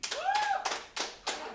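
A handful of people at a girls' basketball gathering give a few sparse, separate claps, three or four sharp hand claps close by, preceded by a brief tonal voice sound.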